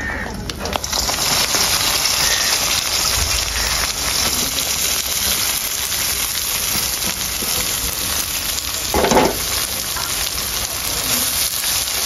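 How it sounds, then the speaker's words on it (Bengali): Thinly sliced onions fry in oil left from frying prawns, giving a steady, close crackling sizzle that fills the whole stretch with a brief louder burst near the end. "তো বন্ধুরা চিংড়ি ভাজার তেলে দিয়ে দিব পেঁয়াজ কুচি।"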